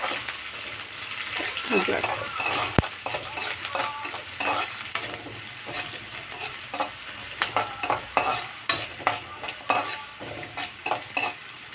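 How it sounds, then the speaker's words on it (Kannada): Sliced onion frying in a little oil, stirred steadily with a ladle: a constant bright sizzle under repeated scraping and tapping strokes, moderately close, with no talk. "ಸ್ವಲ್ಪ ಎಣ್ಣೆ ಒಳಗೆ ಈರುಳ್ಳಿ ಚೆನ್ನಾಗಿ ಬೇಯಬೇಕು"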